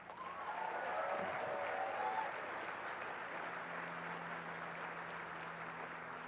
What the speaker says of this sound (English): Let's give our staff and coaches a round of applause.